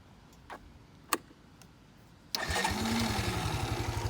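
A Kawasaki Bayou 220 ATV with a freshly repaired clutch gives a few faint clicks and a sharp knock, then its engine catches and settles into a close, steady, chugging idle.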